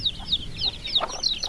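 Native chickens and chicks clucking close by, a rapid series of high chirps and peeps from the chicks with a few lower clucks mixed in, alone with no voices.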